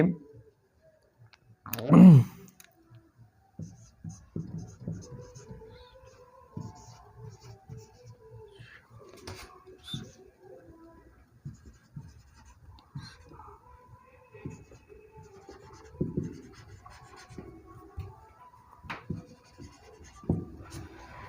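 A pen writes out a sentence by hand in short scratching strokes and taps, with a loud rustle early on and a soft voice murmuring faintly in the background.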